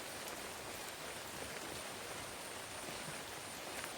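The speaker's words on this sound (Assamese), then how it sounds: "বৰষুণ দি আছে যে পাৰিব পৰা নাই।" Morning rain falls in a garden, a soft, even hiss of drops that stays faint and constant throughout, with no one talking.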